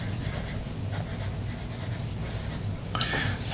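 Eraser rubbing across paper to lift marks left by a Musgrave Single Barrel 106 pencil, a close, soft, continuous scratchy scrubbing with quick back-and-forth strokes and a brighter rasp near the end.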